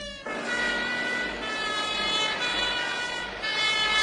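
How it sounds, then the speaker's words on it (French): A fire engine siren wails steadily and loudly through the whole stretch, its tones continuous over a dense, noisy traffic background. "La voiture des pompiers ne s'arrête pas au feu rouge."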